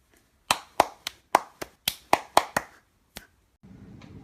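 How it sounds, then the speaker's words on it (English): About ten sharp, close hand claps, spaced unevenly, come from a small group or a single person in a kids' science show. A pause follows, then faint low rustling. "Applause!"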